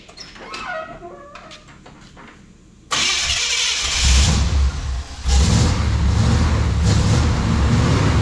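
A wrecker truck engine cranks briefly and catches, then settles into a loud, steady run with a surge partway through, close by and with no talk.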